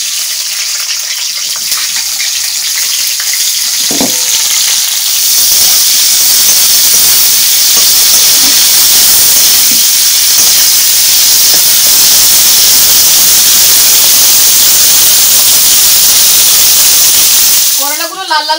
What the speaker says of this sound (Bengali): এবার করলার উপর একটু নুন ছড়িয়ে আমি করলাগুলো ভেজে নেব।